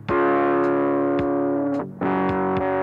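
A distorted guitar signal with only the 428 to 908 band soloed, heard as a loud, thick, boxy midrange tone with sustained chords and a couple of slides between them.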